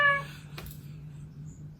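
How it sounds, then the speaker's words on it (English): Toy cat Percy, a robotic companion pet, gives a short electronic meow at the very start, bright and tonal, then fades to a low steady hum with a faint soft burst midway. "Percy, it meows, and just like this."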